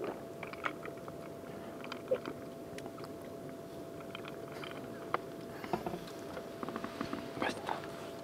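Someone chewing food while eating at a lakeside campsite in an air tent, with soft crunchy bites repeating close to the microphone over steady background ambience.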